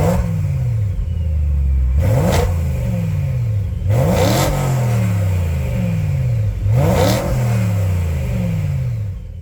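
A BMW E92 M3 with a competition exhaust revs repeatedly, each sharp blip rising then falling away, with crackling bursts between pulls; loud, close, and no voices.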